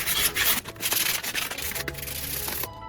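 Sandpaper rubbed by hand over masked metal typewriter parts, a close rapid series of short rasping strokes that stops abruptly near the end.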